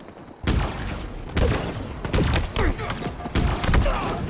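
Rifle fire in Halo sounds as a series of loud, punchy bursts, roughly one per second, close and heavy with thudding low ends.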